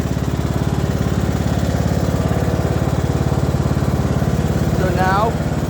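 A riding lawn mower engine runs steadily and loudly up close. Its even drone continues through the whole stretch without a break.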